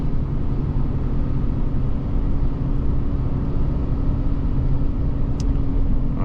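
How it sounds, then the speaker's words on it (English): Steady, loud road rumble of traffic on a snowy highway with a 110 km/h limit, where double-trailer trucks are running; the drone holds continuously with no distinct pass-by peaks and no talking. "Trucks are running. See, double trailers."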